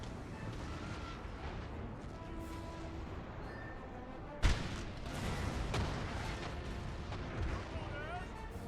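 A heavy cannon boom cracks out midway through a dense, constant din of rumbling and clatter in a Napoleon: Total War battle.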